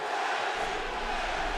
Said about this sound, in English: The crowd chants for their man.